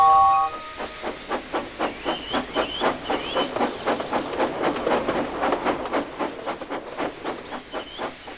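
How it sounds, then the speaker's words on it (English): A steam locomotive hisses steadily as it lets off steam, while rhythmic chuffing puffs repeat, with faint whistle-like tones over the top; no voices. "He just let off steam mournfully"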